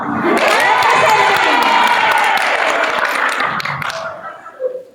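A sports-fest crowd claps and cheers loudly for a muse and banner presentation, a thick roar of applause and shouting that fades toward the end, with a brief voice rising over the dying noise.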